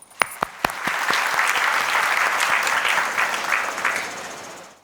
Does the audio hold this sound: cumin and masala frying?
no